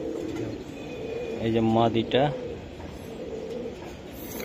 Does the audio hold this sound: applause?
no